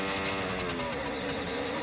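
Mercedes Formula 1 car running through the Monaco tunnel in 2022 practice, tyres scuffing and skipping for grip; a loud, sustained engine whine with a sliding, scraping texture, continuous and close throughout.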